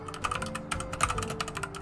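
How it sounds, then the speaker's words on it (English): Rapid clatter of computer keyboard keys struck in quick irregular bursts, close and fairly loud, with a steady low hum underneath and no voices. "He's typing, folks."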